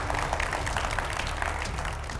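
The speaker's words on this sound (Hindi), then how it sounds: "एक बार जोरदार तालियों के साथ सभी का स्वागत हो जाए" Studio audience in a Hindi TV debate show clapping together, a steady dense wash of applause held at a fairly constant level for a couple of seconds with no speech over it.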